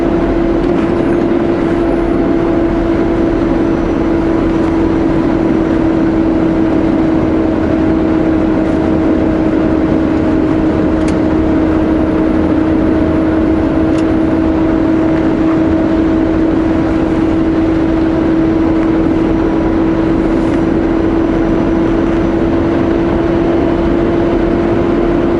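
Truck engine holding a steady drone on a long downgrade: a loud, constant hum with a sustained tonal whine, unchanging for the whole stretch under road noise.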